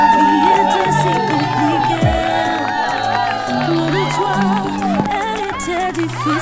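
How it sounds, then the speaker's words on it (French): Wedding guests in a hall at the Auberge Godefroy inn in Bécancour cheer and whoop for the newlyweds, a busy crowd of voices and shouts mixed with music, loud and continuous. "Alors applaudissons pour les nouveaux mariés, Vanel et Shirley!"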